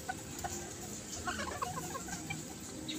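Backyard chickens and roosters cluck softly and intermittently at a distance over a low steady background hum.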